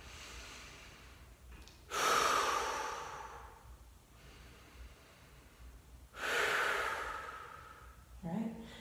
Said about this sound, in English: take 2 rounds of breath here.